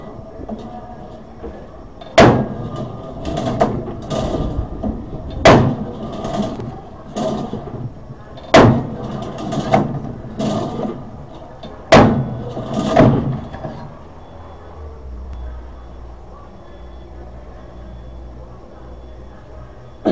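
Homemade punch press stamping 2 cm by 5 mm holes in 14 gauge sheet metal, a series of loud, sharp metallic punches at irregular intervals, with mechanical clatter and someone speaking over it.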